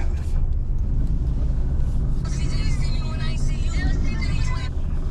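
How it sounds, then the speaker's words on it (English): A Pontiac G8 GT being driven, heard from inside the cabin as a steady, low engine rumble and road noise, with a voice speaking over it. "today we're driving my boy Jeremy's Pontiac G8 GT"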